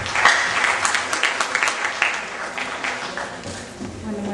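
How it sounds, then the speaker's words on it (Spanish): Audience applause for a lecturer, Dr. Vanessa Juárez, at an evening class on state procurement, a steady mid-level wash of clapping over the room's background. "un fuerte aplauso para la doctora Vanessa Juárez"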